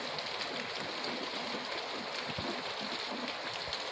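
Heavy rain pours down steadily outdoors, a dense, continuous hiss with no pauses and a few dull thumps underneath.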